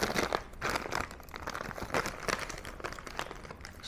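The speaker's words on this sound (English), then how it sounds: "Ooh, I'm ripping this thing a bit badly." A package is ripped open with a pen in place of scissors, giving continuous crinkly tearing and crunching of packaging close to the mic, with no talking over it.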